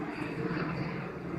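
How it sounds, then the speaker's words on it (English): A helicopter passing over the snowy Panchase trekking area in Nepal, a steady, fairly loud rotor and engine drone held evenly across the moment without voices. "just a chopper passing by"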